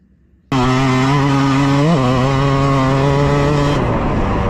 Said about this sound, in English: qualifying aboard my guy Factory Phil from KMS Heating and Cooling's YZ250 two-stroke